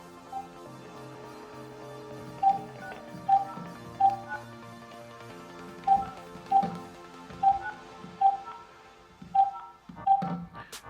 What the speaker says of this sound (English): So I'm going to try and give this guy called Cesar a call and see if he could shed some light on this.